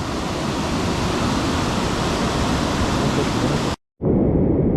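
A waterfall on a trout stream roars as a loud, steady broadband rush close by, cutting out briefly before resuming with a duller tone.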